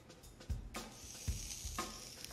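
Chopped onions hitting hot canola oil in a pan give a soft sizzle, with a couple of light clanks and stirring noises, close and quiet.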